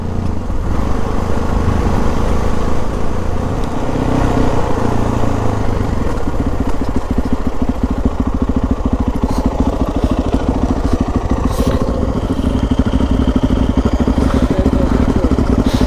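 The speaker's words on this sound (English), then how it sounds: "Oh, that exhaust sounds great." A motorcycle's exhaust runs close by with a steady, throaty rumble. It holds at an even level throughout, with a faint rattling texture on top.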